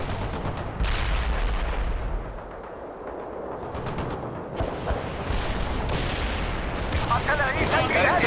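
Artillery fire in the video game World in Conflict: repeated booming shots and crackling impacts over a continuous rumble of battle, with bursts of rapid gunfire and explosions scattered through the clip at a steady, intense level.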